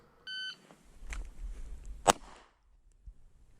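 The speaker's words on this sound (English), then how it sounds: "On the beep, shoot one shot into the circle" A short electronic shot timer beep sounds, followed moments later by a single sharp handgun shot, then quiet.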